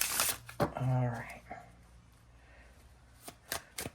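Tarot cards riffled together in a quick shuffle that bursts loud near the start, followed by quieter card handling and a few soft taps; a voice speaks briefly during it.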